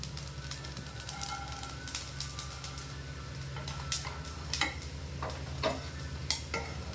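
Food being stirred and dry-roasted in a pan at close range, a continuous soft sizzle with irregular scraping clicks and taps of the spoon against the pan, no talking.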